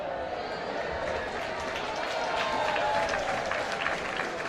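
Applause rises from the stands at a baseball game between the Netherlands and Czechia after a fan catches a foul ball, sustained crowd clapping heard beneath commentary.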